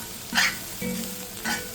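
Egg curry being stirred in a pan as the egg sets, with three short scraping strokes spaced across a low background sizzle.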